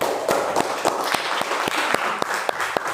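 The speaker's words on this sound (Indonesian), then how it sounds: "Tepuk tangan untuk kelompok 1." A classroom group claps for another group's presentation. The applause is moderately loud, with distinct individual hand claps standing out in an uneven rhythm over a softer wash of clapping.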